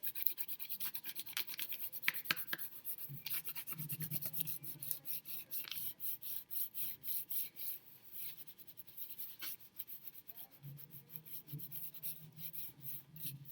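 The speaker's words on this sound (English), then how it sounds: "So you are just going to rub away with your black crayon, making sure you get all those little crevices." A black crayon rubs over paper laid on a leaf, making a steady, close scratchy rasp with quick repeated back-and-forth strokes for the whole stretch.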